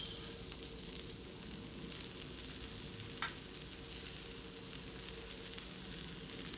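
Diced shallots frying in a pan with mushrooms, a steady, quiet sizzle that holds evenly throughout, with one brief clink partway through.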